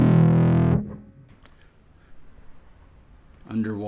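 Roxsyn synth from Yonac plays a loud, sustained distorted note that cuts off abruptly, leaving a near-silent gap with faint clicks before a cleaner, filtered tone enters at the end.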